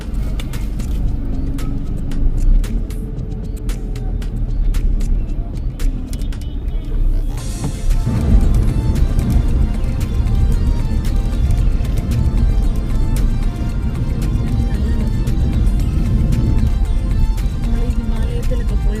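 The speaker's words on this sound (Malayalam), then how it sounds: "ഒത്തിരി വണ്ടി ഇവിടെ" A steady roar of road traffic, with vehicles rumbling and swishing past continuously, grows louder and denser midway through. It is heard from a vehicle on a green, hilly route from Mumbai to Goa, with no voices over it.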